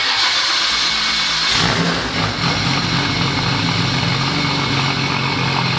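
A Nissan R34 GTR engine fitted with an OS Giken sequential straight-cut transmission, a loud, close engine that rises sharply to a strong steady drone with gear whine over a deep rumble, no voices.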